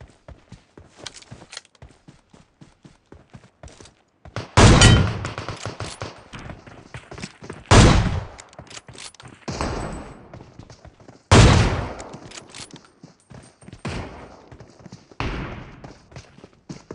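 Four loud, sharp AWM sniper rifle shots in the mobile battle royale BGMI, spaced a few seconds apart, each a booming crack with a ringing tail, between quieter footstep-like ticks and game clatter.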